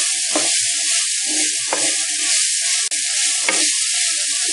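Spiced chickpeas tossed and frying in flavored oil for a Sri Lankan dish, a steady hiss of sizzling carried under a few sharp scraping stirs of a spoon in the pan, close and alone without voices.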